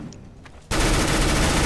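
Automatic gunfire in CS:GO, a sudden loud rapid burst that starts after a quiet moment and continues steadily to the end.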